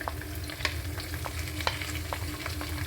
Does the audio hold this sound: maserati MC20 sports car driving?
no